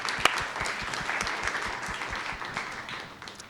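Audience at a school governing board meeting gives steady applause, a dense wash of many hands clapping indoors that holds briefly and then starts to taper off.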